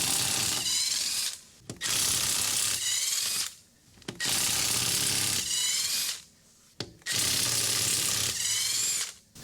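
Impact-style ratchet working a stuck wheel on a 2007 Chrysler Pacifica, three loud bursts of rapid clattering each lasting about two seconds, separated by brief pauses.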